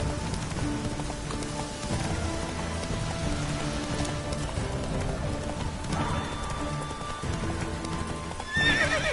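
Roach, the horse in The Witcher 3: Wild Hunt, gallops with steady, rapid hoof clip-clop and whinnies over a dense game soundscape with a faint rain-like wash, loud and continuous throughout.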